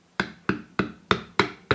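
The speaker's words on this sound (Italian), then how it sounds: "E con dei piccoli colpetti la facciamo arrivare a battuta." Six light, evenly spaced hammer taps seat a bushing on a scooter fork during a fork overhaul, each a sharp, close metallic knock with a short ring.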